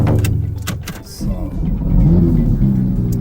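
Porsche 911 GT3 with an aftermarket exhaust at Tokyo Auto Salon, its engine revving loudly up close in a strong low rumble that builds toward the end, with people talking over it.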